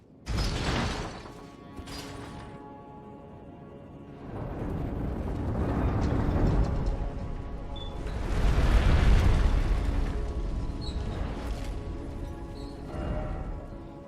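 Heavy mechanical gate in Elden Ring grinding and rumbling open after a lever pull, with creaking, ratcheting gear sounds swelling in several loud surges over about fourteen seconds, no talking.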